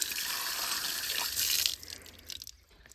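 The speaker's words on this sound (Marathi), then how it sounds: "आमच्या इथे सर्व प्रकारच्या चपला धुवून मिळेल." Running water from a tap gushes loudly over slippers being washed, a close steady splashing stream that breaks off near the end into a few drips and trickles.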